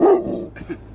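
A single loud, close bark from a dog at a scrapping site trails off into a short, low grumble, with no voices heard.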